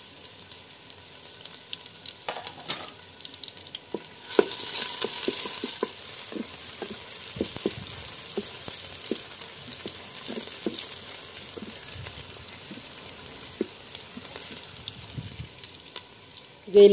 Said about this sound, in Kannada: ಇಲ್ಲಿ ನೀರುಳ್ಳಿ ಫ್ರೈ ಆಗ್ತಾ ಬಂತು.